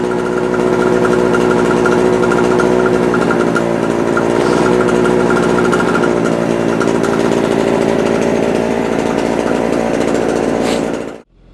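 Small two-stroke generator engine running on what is left in its carburetor, a loud buzzy steady drone that holds for about eleven seconds before abruptly cutting out into silence.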